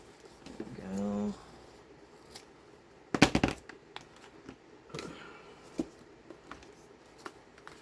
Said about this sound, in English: Let me go grab some here and cut a piece off.